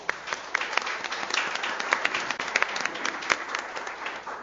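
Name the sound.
audience applause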